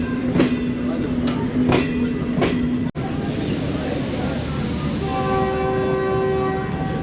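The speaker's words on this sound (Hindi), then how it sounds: "डिपार्चर हो गया 14 डाउन अवाम एक्सप्रेस का टेक्सला कैंट जंक्शन से" Awam Express 14 Down train departing Taxila Cantt junction, with several short horn blasts, a steady rumbling roar of the train, and later a long sustained horn tone, loud and nearby.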